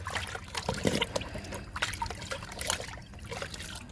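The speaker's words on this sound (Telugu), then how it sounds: "లిక్విడ్ కూడా ఇచ్చేద్దాము." Kitchen waste liquid fertilizer poured onto a drumstick plant in a home garden, a close trickling and splashing of liquid onto soil with uneven gurgles, no speech.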